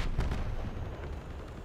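A short, muffled boom from a Nidhogg video game, a heavy low thump with a couple of quick pops, moderately loud and alone.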